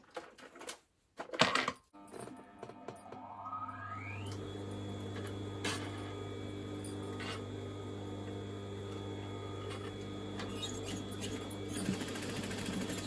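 A sewing machine stitches along an overlocked seam in crushed polyester velvet: a few handling knocks, then the motor spins up into a steady, close, continuous hum and rapid needle patter.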